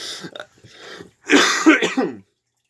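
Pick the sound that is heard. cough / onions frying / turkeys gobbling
cough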